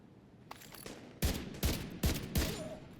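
ACR rifle gunfire in The Division 2, four loud sharp bursts in quick succession with a faint crackle of distant shots before them.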